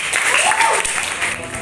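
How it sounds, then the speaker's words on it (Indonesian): A classroom group claps for a fellow student group during a lesson, a short burst of steady applause with some voices mixed in. "Tepuk tangan buat kelompok"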